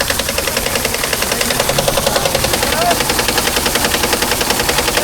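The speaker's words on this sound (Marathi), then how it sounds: "ट्रॅक्टर बोल राहिला तिकडं" A tractor engine running on a farm during the wheat harvest, giving a steady, rapid knocking chug that repeats evenly throughout at a moderate distance.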